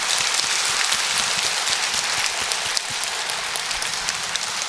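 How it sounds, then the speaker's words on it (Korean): A church congregation gives sustained, dense applause of glory to God after a sermon. The clapping is steady and crowded, like a rainfall of hands, and no voices rise above it. "우리 모든 영광을 하나님께 영광의 박수를 한번 하겠습니다"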